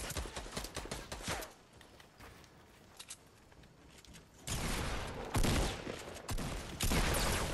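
Gunfire from a sniper shooting at the player in Fortnite, scattered sharp cracks early on, then heavier bursts of rapid shots that come louder and denser toward the end.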